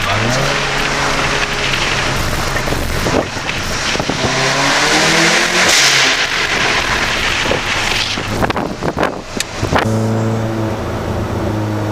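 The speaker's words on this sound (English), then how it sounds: "I'm going to put the windows down and go through the tunnel. Overrun burble as well" A VW Golf GTI Clubsport with a resonator delete, heard from inside the cabin with the windows down in a tunnel: a loud, close engine roar that rises and falls under acceleration, with popping overrun burble near the end.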